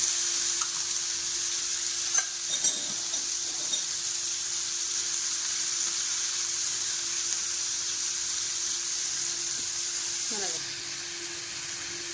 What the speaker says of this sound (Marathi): तेलामध्ये पूर्ण नाही कारलं फ्राय करून घेणार आहे